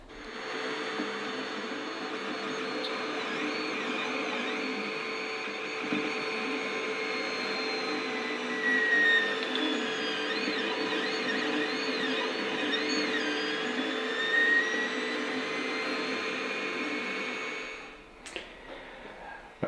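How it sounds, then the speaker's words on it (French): A 3D printer builds a plastic support part in a workshop. Its steady motor whirr carries wavering, rising and falling stepper tones for nearly twenty seconds, then the noise cuts off abruptly near the end. "comme vous le voyez, l'imprimante fabrique cet élément support"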